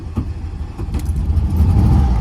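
A 1972 Volkswagen Beetle with its 1200 engine cranking and catching, a low rumbling starter churn that builds into a steady idle, close by and without talking.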